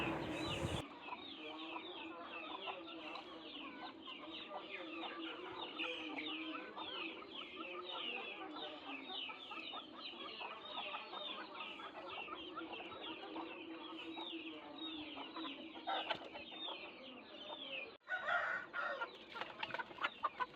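A flock of chickens clucks continuously and busily up close while eating a food mix with millet, with overlapping murmuring calls and occasional louder squawks toward the end.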